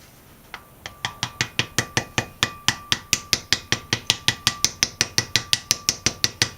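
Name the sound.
hammering a seal onto a wheel bearing hub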